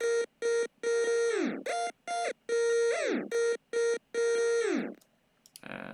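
Runner synth lead from the Shark Boy Ecstasy Serum bank playing a choppy, bright stuttering melody of repeated held notes, several of which bend sharply downward in pitch before cutting off, loud and alone with no voices.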